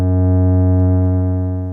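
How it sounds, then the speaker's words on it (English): Sustained, buzzy Moog synthesizer tone with a rich stack of steady harmonics, loud and unwavering, droning alone and fading slightly near the end. "So in here, you've got some noisy Moog."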